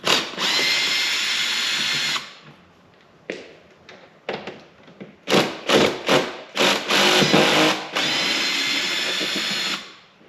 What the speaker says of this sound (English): let's go ahead and take our screw gun here and begin removing screws